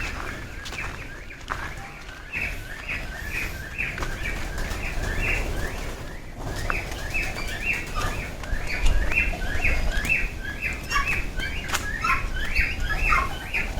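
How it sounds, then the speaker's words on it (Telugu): Pigeons and parakeets at Horsley Hills, a hill station in Andhra Pradesh, chirp and call repeatedly at moderate distance over steady outdoor background noise, with occasional soft wing flaps and no talk. "చూస్తున్నారు కదా బర్డ్స్ చూడండి, పావురాలు కానీ రామచిలుకలు కానీ."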